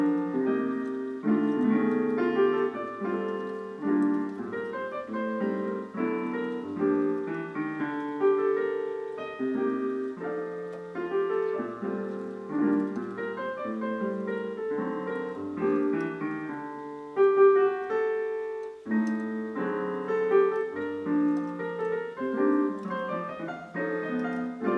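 Solo jazz piano plays in a traditional manner, steady chords and melody flowing continuously for about twenty-five seconds, close and moderately loud with no talking.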